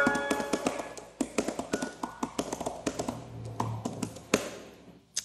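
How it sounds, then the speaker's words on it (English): Keys clack on the original iPad Pro keyboard in quick irregular bursts of sharp taps, fairly loud and close, with short pauses between runs and no talking. "I'm going to do a little bit of typing on the original one here."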